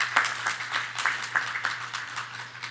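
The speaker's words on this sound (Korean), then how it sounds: "한번 박수 쳐주시면 감사합니다." Church congregation at a Sunday worship service gives a short round of applause, scattered claps that are fairly faint and distant in a room with a steady low hum.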